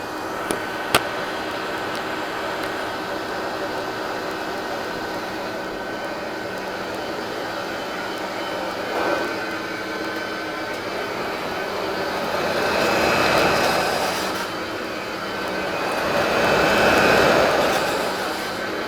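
A 1949 Apex Model 601 upright vacuum cleaner runs continuously with a steady whirring motor drone, its pitch and loudness swelling briefly near the end as it is moved, with no talking.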